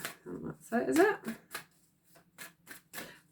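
A deck of tarot cards is shuffled up close in several quick riffling bursts separated by brief pauses, quiet and crisp, with soft voices in the background.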